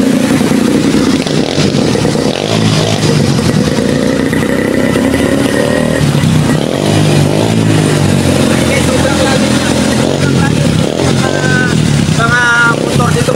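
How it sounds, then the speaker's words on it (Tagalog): Motorcycles and tricycles drive through deep floodwater in Rizal, their engines revving and clattering loudly and close by. The water churns as they pass, and people talk over the steady motor noise. "Panoorin mo po guys na dumadaan ng mga tricycle."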